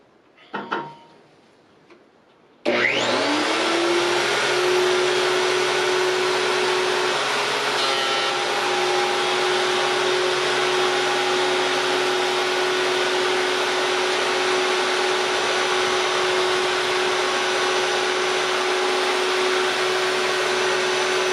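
A VEVOR benchtop planer starts with a sharp jump into a loud, steady high whine and motor roar that holds constant, after a few quiet handling knocks beforehand.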